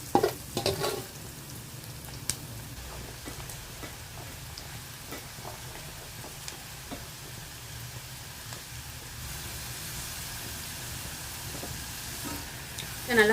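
Okra fries over high heat as an evening snack, with a soft, steady sizzle and occasional light clicks of stirring, plus a louder clatter at the start and end.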